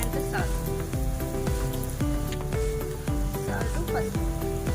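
Garlic and onion sizzle in hot oil with a loud, constant crackle close by, while background music with a regular beat plays over it.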